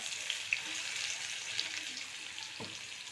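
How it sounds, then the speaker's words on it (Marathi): Cumin seeds and onion frying in hot oil for a bitter gourd dish, giving a steady, fairly quiet broadband sizzle with a few faint pops and a brief low knock near the end. "आता बघा इथे तेल तापलं आहे त्याच्यामध्ये आपण टाकूया जिरे जिरे फुलले की त्यामध्ये टाकायचा कांदा"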